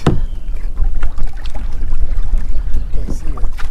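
A kayak moves through shallow marsh water while fishing for redfish, giving close, loud splashes and hull knocks in irregular bursts, with a voice heard faintly at times.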